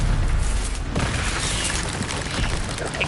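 A Stupefy spell cast during combat in Hogwarts Legacy on PS5, heard as a dense run of booming, bursting magical blasts over a steady wash of game noise, with a voice faintly present.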